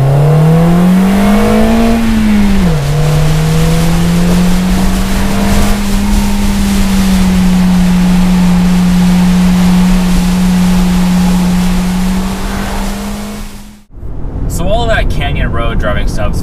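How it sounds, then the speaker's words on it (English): The engine of a 2019 Toyota Corolla Hatchback revs loud and close, rising, dipping, then holding a steady drone for several seconds before cutting off abruptly, followed by brief voices. "rotating mass makes the engine a little bit less responsive when it's revving up and down"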